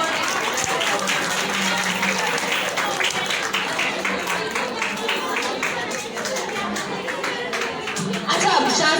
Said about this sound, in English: Parents, please clap